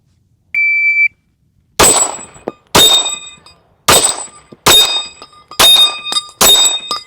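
A Glock pistol fires six rapid shots at steel targets, each crack followed by a bright metallic ring. A short electronic timer beep sounds just before the first shot.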